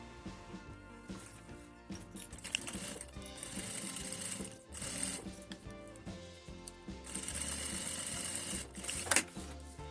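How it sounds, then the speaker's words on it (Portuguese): Domestic sewing machine stitching a straight seam along the edge of a clear pencil case, a steady whirring run with brief pauses and background music over it, no talk. "vou passar uma costura reta aqui e vou fazer exatamente a mesma coisa do lado oposto"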